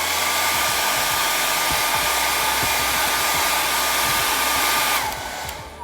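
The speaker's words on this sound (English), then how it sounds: "And then just take a blow dryer." A blow dryer set on high heat, used for home candle making, roars loud and steady with a constant whoosh that drops off near the end.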